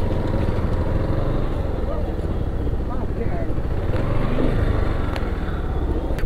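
A motorcycle ridden near Dakshinkali Temple outside Kathmandu, its engine a steady, close rumble running throughout, with a voice talking over it.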